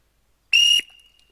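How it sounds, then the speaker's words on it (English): A whistle from a survival kit blown once, a short, shrill, loud tone lasting about a quarter second, alone in quiet surroundings. "It works. It's a whistle."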